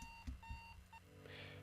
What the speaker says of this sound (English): there was no point to the alarm clock today